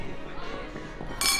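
Drinking glasses clink together in a toast at a dinner table among friends, a bright ringing burst near the end following a stretch of overlapping chatter and voices.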